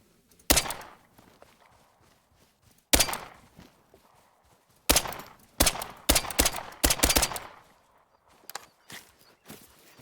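Rifle shots aimed at a turkey in the hunting game theHunter: Call of the Wild ring out as several sharp, loud cracks at irregular intervals, some in quick succession, with faint rustling and quiet gaps between.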